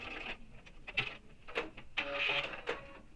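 A sewing machine runs in short bursts while top stitching a backpack panel, its motor whirring and needle clattering in quick stretches with brief pauses between them, close and moderately loud.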